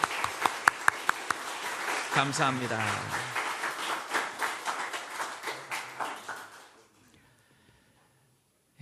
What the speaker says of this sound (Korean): 우리 환영의 박수 한번 힘차게 쳐주십시다.